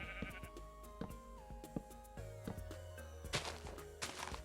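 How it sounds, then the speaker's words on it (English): Sheep bleating in the Minecraft video game, a few short synthetic bleats over background game music and block sounds, with no talking. "Sheep, you are not supposed to be here,"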